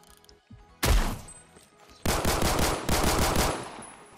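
Automatic weapon fire in the Roblox shooter Phantom Forces: loud sustained bursts, a short one near the start followed by two long stretches of rapid shots.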